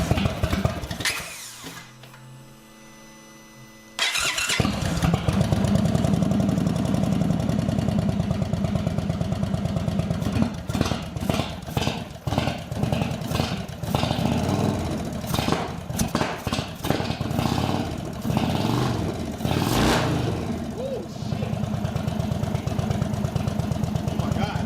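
An Indian Chief motorcycle with a starting problem cranks briefly, then catches and runs with a loud, steady, uneven engine rumble punctuated by sharp throttle blips and clanks.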